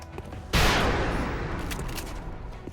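A single sharp gunfire burst opens abruptly and decays into a long reverberant tail, loud and alone, a rapid-fire shot from an assault soldier in the XCOM strategy game.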